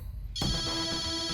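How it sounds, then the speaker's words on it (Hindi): A telephone ringtone starts abruptly after a short quiet stretch and then rings steadily with a bright, sustained electronic tone, heard alone without talk. "रिंग जा रही है।"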